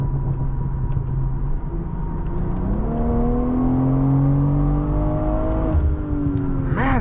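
A 2023 BMW M340i drives along, its engine note rumbling and climbing as it accelerates, with low exhaust burbles under the steady cabin drone.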